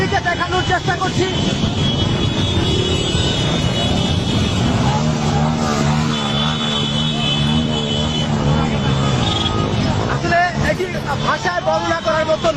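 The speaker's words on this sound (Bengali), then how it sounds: "হাজার হাজার মোটরসাইকেল" Heavy, continuous engine drone from a huge motorcycle rally of thousands of bikes filling both lanes of a road, a dense roar of many engines passing close with crowd babble mixed in.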